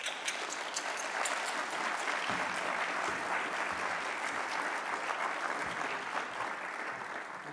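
Audience applause welcoming Professor Richard Nisbett to a college lecture, a steady, dense burst of clapping from a sizable crowd that holds evenly for several seconds and starts to fade at the end.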